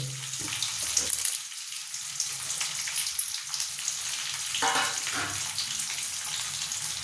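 Green chillies and curry leaves crackle in hot oil for Davanagere-style oggarane mandakki, a dense close sizzle with a brief heavier burst about two-thirds of the way through.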